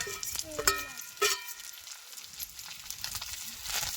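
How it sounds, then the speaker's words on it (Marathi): Fried onion tipped into a hot pan sizzles softly and close, with a few sharp clinks at the start and then a gentle, uneven crackle of frying. "आता तो कांदा आपण मागाशी तळून घेतलेला टाकून घेणार आहे"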